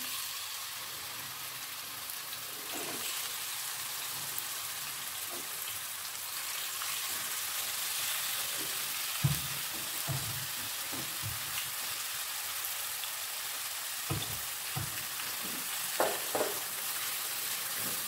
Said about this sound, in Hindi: ये जब गर्म हो जाएगा तो फिर हम इसमें चिकन शामिल करके तो फ्राई कर लेंगे